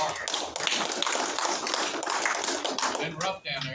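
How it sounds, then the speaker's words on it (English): A round of applause for an attorney at a community meeting, a dense, steady patter of many hands clapping in a room that tapers off near the end. "Have a big round of applause for Richard Parker"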